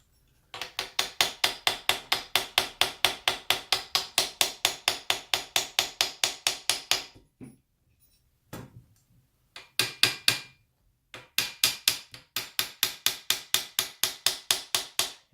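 A trumpet's dented brass valve casing is tapped through a canvas in quick, steady, evenly spaced hits, close and crisp, in long runs broken by brief pauses and a few isolated knocks.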